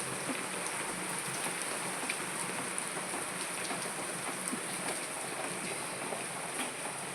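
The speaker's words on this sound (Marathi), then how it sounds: "झालाय कमी आता पाऊस जरा" Heavy rain pours down in an even, continuous hiss, with no pauses or voices, close and fairly loud throughout.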